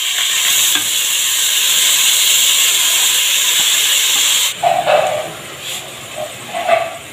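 Chopped capsicum, carrot, onion and green chilli hitting a hot pan: a loud, steady sizzling hiss that suddenly drops off, followed by softer stirring clatters and bubbling.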